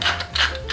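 A pepper mill is twisted to grind pepper over a quiche filling of eggs and crème fraîche, giving close, rhythmic ratcheting crunches in about three quick turns.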